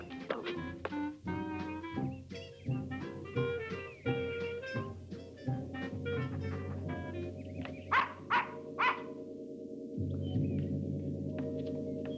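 A dog barking and yipping in bursts, moderately close and loud, with whimpering sounds between the barks and a steady low background toward the end.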